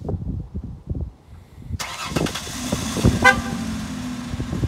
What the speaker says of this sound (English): It'll honk once to tell you that it's running.